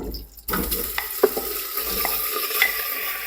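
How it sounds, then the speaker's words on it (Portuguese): A pork leg hits hot lard in a very hot pan, breaking into a loud, steady sizzle with occasional stirring clinks, close and alone. "A panela já tá bem quente e já vou colocar aqui o pernil."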